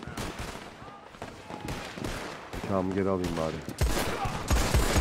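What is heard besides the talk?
Navy revolver gunfire in Red Dead Redemption 2 video game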